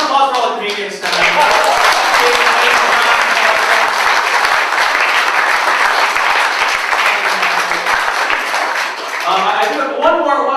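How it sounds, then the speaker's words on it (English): Loud, sustained audience applause fills a comedy show venue for several seconds, with dense clapping and some crowd voices mixed in. "another round of applause for all the comedians tonight."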